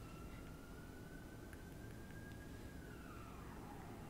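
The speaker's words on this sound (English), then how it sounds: "we'll wait for the fire truck to go past" A fire truck siren wails as it passes by, a drawn-out tone that holds and then slides downward as it moves away, over steady background traffic rumble.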